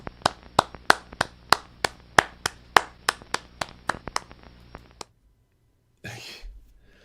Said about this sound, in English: I got my one-man clapping again here.